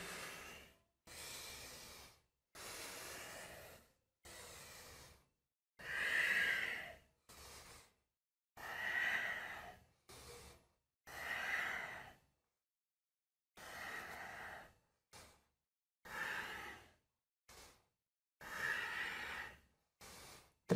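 During a yoga class, slow, steady breaths through the nose repeat in a regular rhythm, each inhale or exhale a soft airy rush separated by brief silences, faint and close.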